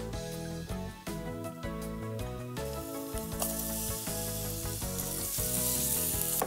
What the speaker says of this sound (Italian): Finiamo di affettare la cipolla e a questo punto la mettiamo a rosolare.